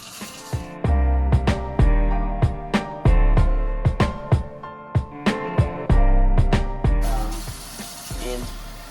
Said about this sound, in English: spray the Dawn on it and start scrubbing.